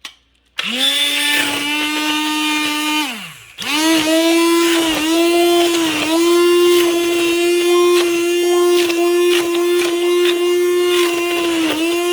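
A hand blender purees cooked apples for apple sauce, whirring loud and steady, cutting out briefly near the start and then running on alone with a sustained motor whine.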